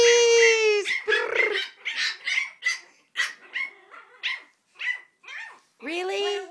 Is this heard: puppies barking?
yes